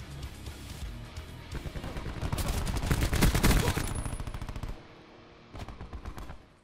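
Rapid automatic gunfire from a KN57 assault rifle in a first-person shooter game, loud and close, in sustained bursts that build and then cut off, followed by a shorter burst near the end.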